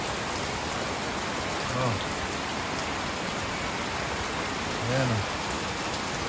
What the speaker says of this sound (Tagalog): Grabe lakas ang ulang sa akin mga tambay.